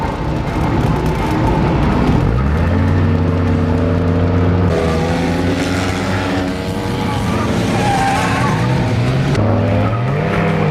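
Race cars in a night destruction racing video game roar loudly with steady engine harmonics that shift pitch as they accelerate and shift, tires skidding and squealing throughout, continuous and close.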